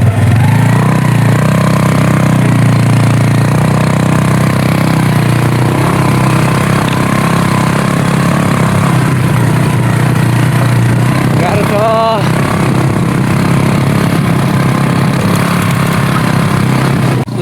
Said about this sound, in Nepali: स्कुटरमा गाह्रो भयो